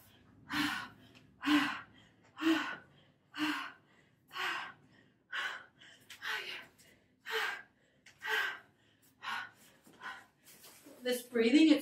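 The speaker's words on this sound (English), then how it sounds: "This breathing, it's real." Heavy, rhythmic gasping breaths follow a resistance band booty and cardio workout, a dozen or so loud panting exhalations at a steady pace close to the mic, with no talking.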